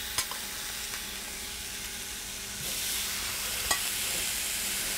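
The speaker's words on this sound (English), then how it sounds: "So I've heated a cast iron stovetop grill to about 500 degrees. Sizzle, sizzle." Lamb chops laid on a cast iron stovetop grill heated to about 500 degrees and oiled with safflower oil, giving a quiet steady sizzle that swells louder partway through, with a few small clicks and taps.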